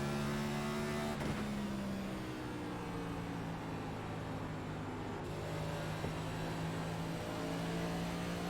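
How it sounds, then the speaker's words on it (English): A race car at Phoenix Raceway in a racing video game spins its tyres exiting a corner, a steady droning engine whine with shifting harmonic pitch and constant road noise, fairly faint and continuous throughout. "I'm trying to burn my tyres and exit"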